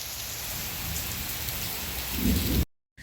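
Heavy rain pouring down during a mountain hike in Hong Kong, a dense, loud and close hiss with deeper rumbling swelling near the end before cutting off abruptly.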